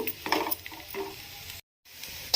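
Bitter gourd fry sizzling in a pan on low heat with chilli powder, stirred now and then, giving a close crackling fry with scraping stir strokes and a brief break.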